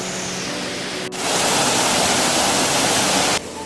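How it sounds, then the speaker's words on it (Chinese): A small stream flows through dense forest high in the Daba Mountains, a close, constant broadband rush of water that swells sharply louder for a couple of seconds before easing back. "这边还有一条小溪"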